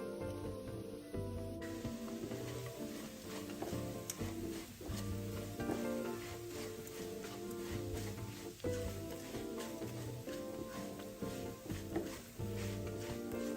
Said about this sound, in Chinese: 一開始糖會化開成濃稠醬汁，再慢慢變得更粘稠，炒到糖汁略收乾，微帶焦香感